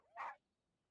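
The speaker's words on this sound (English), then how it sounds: "Here, doggy. Good doggy." A single short bark from a dog in the Genshin Impact video game, one quick clear yap with nothing after it but quiet.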